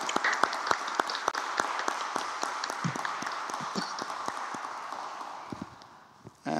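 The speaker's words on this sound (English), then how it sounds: "we could applaud" Applause at a memorandum of understanding signing ceremony for joint PhD programmes: scattered, fairly faint claps from a small audience, thinning out over several seconds before a brief pause.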